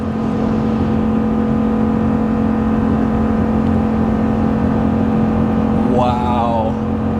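A RAM 2500 HEMI truck with a ZF 8-speed transmission tows up a 6% grade, its engine holding a loud, steady droning hum with a sustained tone under constant road noise from inside the cab.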